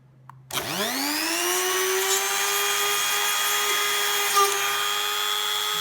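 A power drill bores a 1.8 mm hole through a phone holder for a tripod light mount. After a quick click the drill spins up into a loud, steady high-pitched whine that holds to the end.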